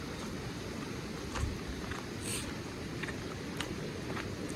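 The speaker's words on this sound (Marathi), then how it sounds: "पावसामुळे जरा पाणी आहे नदीला चांगलंच" A rain-swollen river in rural Konkan rice-farming country rushes in a steady, dense broadband wash, close and continuous with no pauses or voices.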